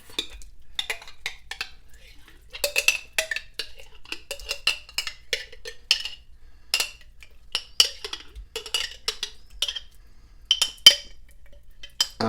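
A utensil scrapes jelly out of a glass jar into a slow cooker, making a busy, close run of irregular clinks, taps and scrapes against glass and ceramic.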